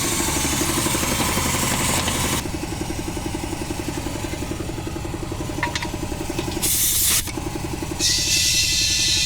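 An air compressor engine runs at a steady, loud chugging idle close by, with brief hissing bursts of air in the middle and near the end, at a tire shop while a separated 14-inch trailer tire is repaired.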